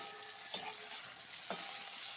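Okra and onion frying in a pan sizzle faintly and steadily, broken by two sharp clinks of a spoon stirring against the pan.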